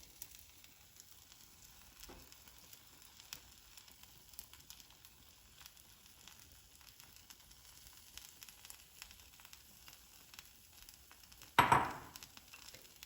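A spinach omelette cooking in a pan gives a faint, steady sizzle throughout, broken near the end by one sharp, louder clatter-like burst that quickly fades.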